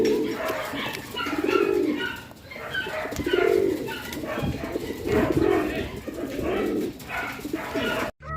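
Racing pigeons coo repeatedly in soft, throaty rolling phrases, several birds overlapping at close range with a faint murmur of other birds around them.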